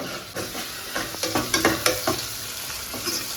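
Onions and tomatoes sauté in a pan with a close, crackling sizzle and a run of sharp stirring scrapes clustered in the middle, loud and without speech.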